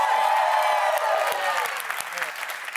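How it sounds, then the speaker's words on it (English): A studio audience applauds loudly at a talk show, the clapping dense and steady at first, then thinning and fading toward the end. "Clap for my mom."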